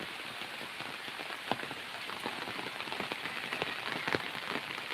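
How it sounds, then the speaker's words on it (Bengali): Steady rain falls on a surface, a dense constant patter with occasional louder individual drops standing out. "আকাশে মেঘ মেঘে মেঘাচ্ছন্ন হয়ে গেছে বৃষ্টি পড়তেছে"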